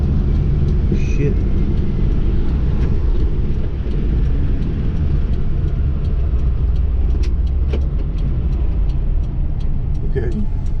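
Steady, loud engine drone from a 1988 Suzuki Jimny with a 550cc turbo engine driving on a road, holding a constant note with small shifts in pitch as gears change. A voice is heard faintly.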